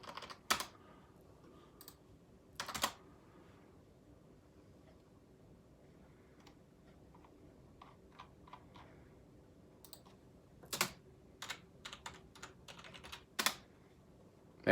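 Quiet, sparse keystrokes on a keyboard while entering DNS settings, a few scattered clicks and short bursts of tapping against a near-silent room.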